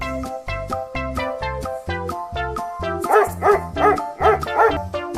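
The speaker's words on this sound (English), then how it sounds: "You definitely know what animal this is. This is a dog." Dog barks sound in a quick rhythmic series, several sharp close woofs over light background music, growing louder toward the end.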